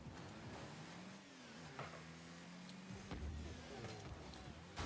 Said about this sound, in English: I wish they would change the Phoenix fucking engine noise. It's so goddamn loud.